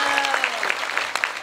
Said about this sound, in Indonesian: Tepuk tangan untuk NU.